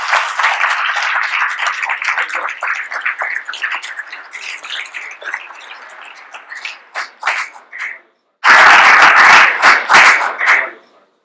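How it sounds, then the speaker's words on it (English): Audience applause at a leadership program gathering, a long stretch of clapping that thins into scattered claps, drops briefly to silence, then returns loud and full before ending. "Applause."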